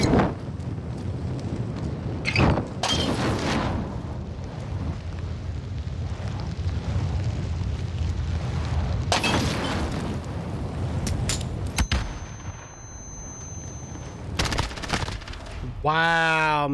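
Bursts of gunfire and booming grenade blasts fill an online shooter match, loud and repeated across the whole stretch, with players' voices talking over the action.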